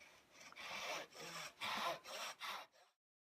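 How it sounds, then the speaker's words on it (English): A pencil marks a reminder line on wood molding with five short, scratchy strokes in a steady rhythm, close up and with no talking. "I'm going to draw my little reminder line to know that my angle is going that direction"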